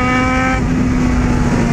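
A Yamaha XJ6 motorcycle engine drones loudly and steadily at speed, with a held tonal whine and strong wind rush throughout.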